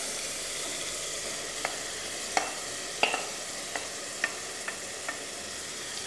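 Kunde greens and vegetables fry in oil with tomato in a pot, giving a steady close sizzle with scattered clicks and scrapes from stirring.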